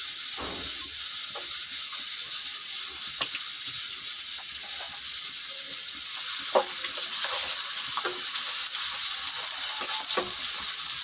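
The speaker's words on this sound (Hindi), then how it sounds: "ऑयल गरम हो जाए फिर प्याज को फ्राई करते हैं" Onions frying in hot oil for a bhuna masoor dal, a steady bright sizzle with crackling pops that holds close and even throughout, growing slightly louder in the second half, with occasional stirring clicks and no talking.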